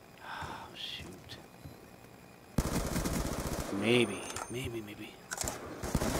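Gunfire from a Call of Duty match, dense bursts of shots and a loud crack breaking over quiet game ambience, with a player speaking briefly.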